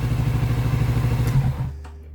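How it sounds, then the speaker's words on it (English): A Kawasaki Z650 RS parallel-twin motorcycle engine idles with a steady, throbbing rumble close by, then cuts out abruptly, leaving near silence. "It sounds like a parallel twin"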